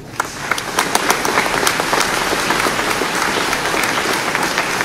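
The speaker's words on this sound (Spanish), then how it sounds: "para todos ellos yo pido un fuerte aplauso" A conference audience breaks into loud, sustained applause, dense clapping from many hands right from the start and holding steady throughout.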